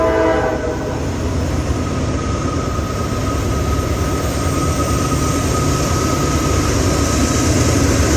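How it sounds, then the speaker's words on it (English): CSX six-engine freight train passing close by, its horn sounding loud and steady over the continuous roar and rumble of rail cars, with no talk. "I haven't heard a train honk in about a month."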